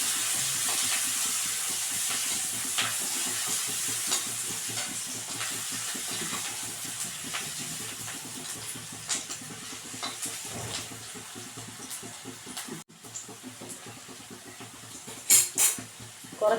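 Green chillies, ginger and shallots fry in a pan for upma, giving a steady soft sizzle and hiss with occasional stirring scrapes and a few sharper clinks near the end.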